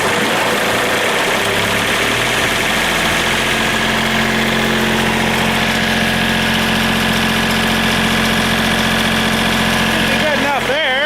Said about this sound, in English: I'm gonna have to maybe rev her up a bit and charge it.